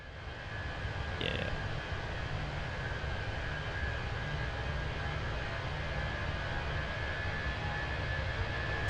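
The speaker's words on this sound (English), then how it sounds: "I like to hear the engine sounds over the music." Airbus A320 jet engines in Microsoft Flight Simulator 2024 produce a steady, continuous airliner roar with a faint high whine, heard from an outside view at moderate level, with a brief small click near the start and no voices.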